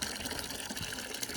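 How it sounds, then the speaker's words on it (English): Steady liquid splashing and sloshing as cut flowers are dipped into Clorox bleach water, a continuous watery wash with no voices. "I'm going to dip them in Clorox because it helps them keep better"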